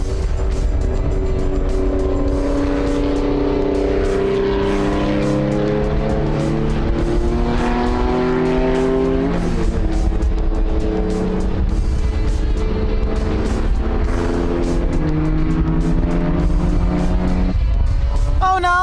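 Historic race cars at speed on the Phakisa circuit, engines roaring loud and steady with rising and falling pitch sweeps as cars pass and shift, one car nursing a damaged right rear tire.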